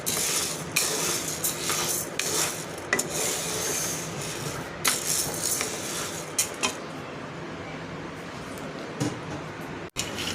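Green gram is dry-roasted in a pan, a spoon scraping and stirring the grains in repeated rough strokes with light rattling, close by, growing quieter toward the end.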